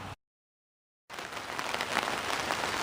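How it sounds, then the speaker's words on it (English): Rain falling outside, a dense steady hiss of drops on surfaces that cuts in after a brief silence and continues evenly, with no talk. "it is raining outside."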